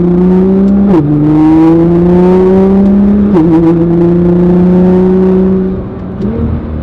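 A loud Nissan GT-R engine revs and climbs in pitch on a canyon road, dipping briefly with gear changes and a downshift before pulling hard again, close and dominant.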